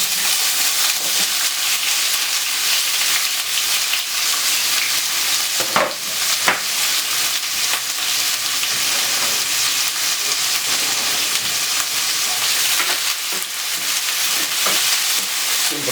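Carrot, white onion, spring onion, fresh thyme and garlic stir-fry in olive oil in a pan, giving a loud, continuous sizzling hiss up close with a few scraping stirs partway through.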